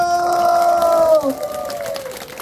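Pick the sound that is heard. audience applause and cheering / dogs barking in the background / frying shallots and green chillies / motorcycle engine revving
audience applause and cheering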